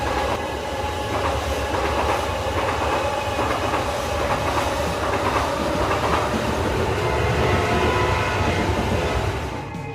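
Shatabdi Express train pulling into a station at night in a cartoon: a loud, continuous rumble of wheels with steady rhythmic clickety-clack, easing slightly right at the end, with no voices.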